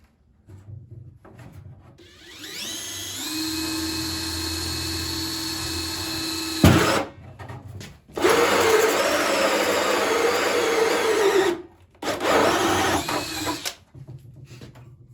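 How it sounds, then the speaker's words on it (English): Power drill boring into wood while building a DIY chicken coop feeder, the motor whining steadily in long close bursts of about four seconds each, separated by brief pauses. "So I'm going to load up my bit and get to drilling"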